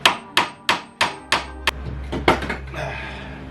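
A hammer strikes a car tie rod on a 2001–2005 Honda Civic in a run of sharp, ringing blows, about five evenly spaced hits, then a few irregular knocks.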